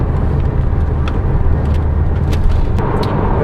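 A Porsche 718 Boxster with a 2-litre four-cylinder engine and PDK gearbox runs steadily, heard as a loud, constant low engine drone with faint ticks over it.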